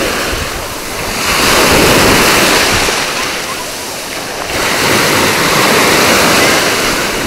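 Sea surf rolls onto a beach in slow swells, the broad wash of waves rising and falling twice, with wind buffeting the microphone throughout.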